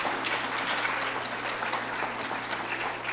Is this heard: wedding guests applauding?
yes